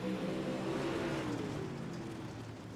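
Race car from a short-track heat race at Lucas Oil, engine note rising as it accelerates on the green flag, loud and steady throughout with a broad roar and sweeping harmonics.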